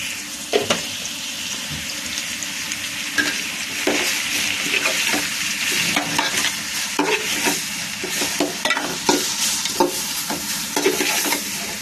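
Food frying in a pan for a Diwali lunch dish, with continuous close sizzling and repeated scraping and clinking of a spatula stirring it, steady throughout without talking.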